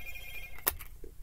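A telephone rings faintly in a room, a thin, steady ring tone with a brief, sharper knock partway through.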